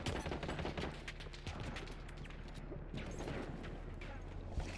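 Dense gunfire from the Battlefield 1 video game, a steady rattle of overlapping shots and bursts sustained throughout at fairly loud level, with no clear talk.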